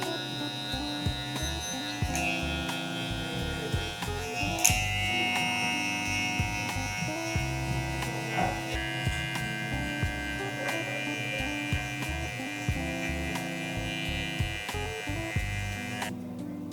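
Electric hair clippers with the guard removed buzz steadily and close by while cutting hair for a low taper, a continuous hum with small shifts in pitch as the blades move through the hair.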